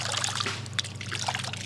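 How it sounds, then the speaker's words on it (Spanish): Water pours and trickles steadily at an abandoned house, a continuous close splashing hiss without pause. "miren cómo se está tirando el agua"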